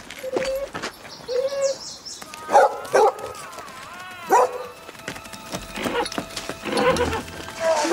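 A dog barks several times in loud, irregular bursts against a background of birdsong and whistling, with other sounds mixed in.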